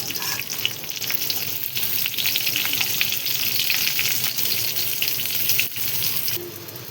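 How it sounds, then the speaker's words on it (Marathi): Green chillies frying on a tawa beside bitter gourd, a loud, steady sizzle with occasional stirring scrapes running throughout. "तर मी हेच तव्यावर कारले काढून घेतले आणि ते मिरच्या टाकून घेणार आहे बघा."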